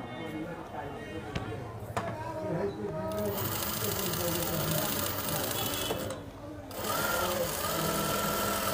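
A sewing machine stitches a frock in a tailoring class, running in fast, continuous bursts with a short pause near the end before starting again, close and loud while a person talks over it.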